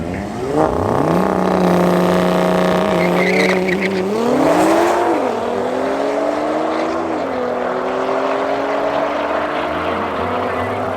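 An Audi RS3 and a Nissan GTR drag race down the strip at Midvaal Raceway, engines revving hard with rising pitch through gear changes, loud and close, with brief tire noise at launch.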